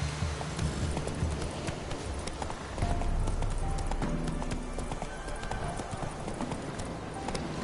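Roach the horse clip-clops in a fast, even gallop of hooves in a video game, loud and continuous throughout.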